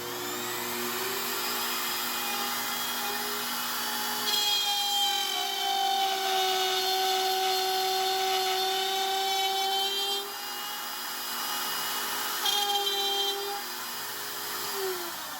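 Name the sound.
trim router cutting wood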